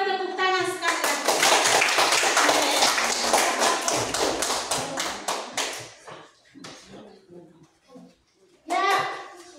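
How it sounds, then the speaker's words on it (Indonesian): Classroom of eighth-grade pupils clapping together after a group presentation: a dense burst of many hands clapping up close, thinning out into scattered claps, then a brief final flurry, with children's voices mixed in. "Mari kita tepuk tangan sekali lagi."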